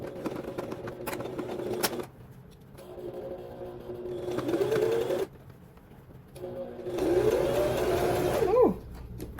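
A home sewing machine stitches a McCall's 7789 jumpsuit in short bursts of rapid, whirring needle strokes separated by quiet pauses. The runs are close and moderately loud, and there is no talking.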